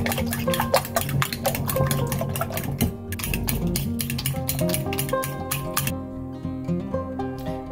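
Four eggs with salt and pepper beaten in a large bowl, a quick steady clatter of a whisk or fork against the bowl sides, close and continuous for several seconds with no talking.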